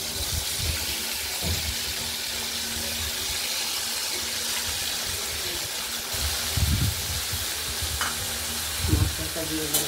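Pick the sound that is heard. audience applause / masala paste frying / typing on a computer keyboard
masala paste frying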